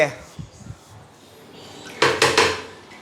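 A metal noodle-blanching ladle is pulled from a dish rack in a home kitchen, setting off a few soft knocks followed by a quick burst of bright metallic clattering against other dishes.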